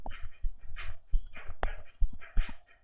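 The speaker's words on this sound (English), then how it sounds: "that sound is my dog drinking water" A dog laps water in quick, rhythmic slurps close by, a steady series of wet tongue splashes and clicks.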